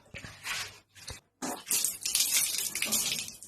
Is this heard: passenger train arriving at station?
no